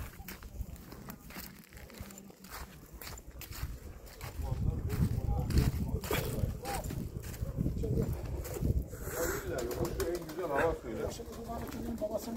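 Tumbler pigeons at a flying ground coo and flap nearby, soft repeated cooing with wing and shuffling sounds that swell louder midway, under people talking.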